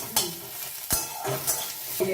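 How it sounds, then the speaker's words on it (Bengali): A spoon scrapes and stirs through sizzling onions in a pan, several distinct stirring strokes over a soft continuous frying hiss. "পেঁয়াজটা দিয়ে তারপরে ভাজা ভাজা করবো"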